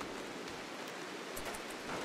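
Rain in the video game RimWorld, a soft, steady hiss of falling drops with no breaks, heard alone and fairly quiet.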